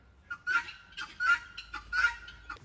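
A pet goose named Henry at a farm animal sanctuary gives three loud honking calls spaced about a second apart, close by, with no talking over them.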